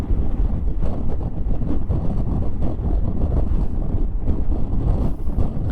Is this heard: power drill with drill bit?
no